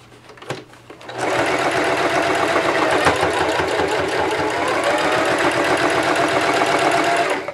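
A Singer 5554 heavy-duty sewing machine with a size 14 universal needle stitching through eight thick layers of fabric, starting after a second with a couple of clicks, then running in a loud, fast, steady mechanical whir up close.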